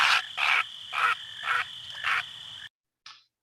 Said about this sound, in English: this heron was terrified of the owl and it flew out, squawking and croaking in alarm and panic